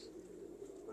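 Pigeons of a prized breed cooing, a soft low rolling coo close by over a steady background hum, brief and fairly faint.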